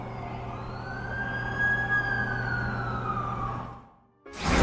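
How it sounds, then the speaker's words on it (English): An ambulance siren in The Amazing Spider-Man 2 on PS4 wails steadily in long sweeping tones, then fades to near silence before a sudden loud burst of noise at the end. "That's the ambulance I called."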